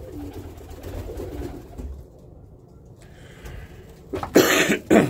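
Birmingham Roller pigeons in a breeding loft give soft throaty coos and low murmurs, with brief louder rustling flurries near the end, close by and with no talk.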